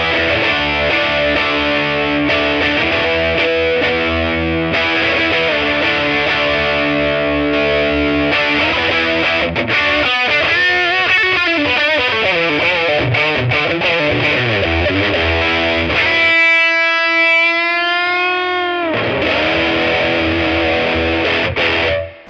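An electric guitar through a Laney CUB Super12 15-watt valve combo amp with its built-in boost on, playing loud, heavily distorted riffs and a solo with bends and sustained notes, close and continuous.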